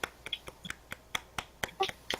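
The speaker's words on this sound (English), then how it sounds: "Golf clap." A handful of soft, quiet claps come in a loose, unhurried rhythm, around a dozen light pats spread over a couple of seconds.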